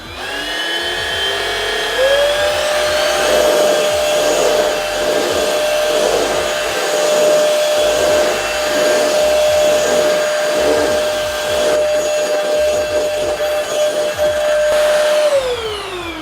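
Two Prettycare W100 and W200 cordless vacuum cleaners run together side by side, spinning up to a steady high-pitched motor whine with airy suction noise, holding constant before winding down at the end.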